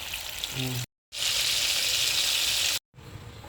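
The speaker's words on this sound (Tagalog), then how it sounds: "Dahil bago ko siya isisigang, ipiprito ko muna siya." Milkfish (bangus) frying in hot oil, a loud steady sizzle that runs in two long bursts separated by brief silences, with a short low hum at the start.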